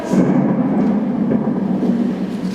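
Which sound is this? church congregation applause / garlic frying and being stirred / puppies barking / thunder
thunder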